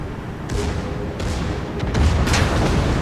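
Heavy naval guns of a battleship and cruiser fire a broadside in a World of Warships battle, with several deep booms rolling out one after another over a steady low rumble.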